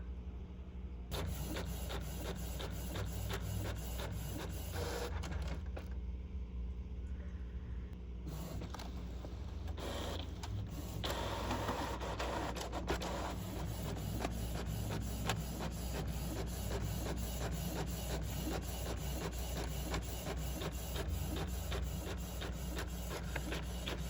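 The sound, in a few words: printer printing double-sided pages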